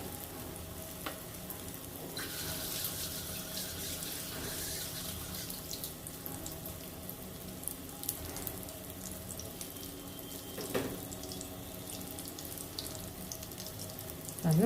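Potato cheese balls frying in hot oil give off a soft, steady sizzle that stays faint and even throughout, with no voices.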